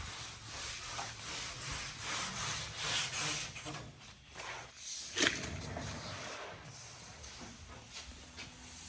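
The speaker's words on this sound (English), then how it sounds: "So I'm gonna hit this with a Scotch-Brite" A Scotch-Brite pad scuffs a body panel on a 1977 Jeep Cherokee Chief in steady, rhythmic back-and-forth rubbing strokes, quiet and close, with one sharper scrape partway through.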